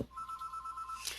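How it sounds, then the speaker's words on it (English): A telephone rings in an office setting, a single steady electronic trill lasting about a second, faint and alone without talk. "Sorry about that phone. It'll stop soon."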